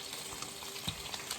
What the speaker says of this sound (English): So I'm gonna pour in my sauce